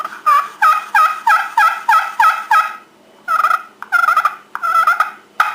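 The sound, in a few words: friction turkey call being worked with a striker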